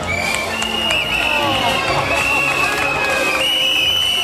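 An outdoor crowd at a Corrida amateur talent event in Ruvo di Puglia cheers and applauds as Pietro Barile is welcomed, with whistles, shouting and lively hubbub.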